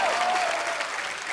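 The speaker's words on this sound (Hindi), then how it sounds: "जोरदार तालियां मेरे लिए।" Applause from a studio audience on a comedy show, a brief steady wash of clapping with crowd noise and a faint voice under it.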